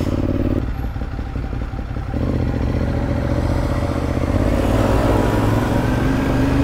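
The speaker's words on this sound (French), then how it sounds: "Le scooter vient d'Angleterre." A British scooter passes along a busy Paris street, its loud buzzing engine rising close by amid rumbling traffic and clatter, with no voices.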